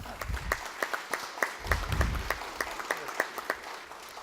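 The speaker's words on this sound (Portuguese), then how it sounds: "Eu quero uma salva de palmas para o João." Scattered audience applause at a municipal event for the defense and protection of life, with distinct individual claps in a steady rhythm, moderately loud in a hall.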